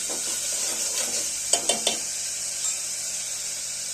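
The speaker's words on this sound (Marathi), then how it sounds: "चांगलं तेल फुटेपर्यंत भाजून घेऊया" Masala roasting in oil in a pan for a katachi amti gives a steady, bright sizzle, broken by a few quick scraping clinks from a utensil near the middle.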